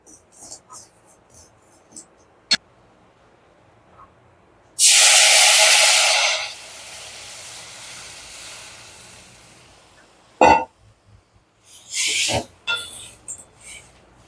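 Water hits hot roasted semolina in a pan and bursts into a loud, bright hiss that lasts about a second and a half, then fades into a softer, lingering sizzle, with scattered clinks and handling noises before and after.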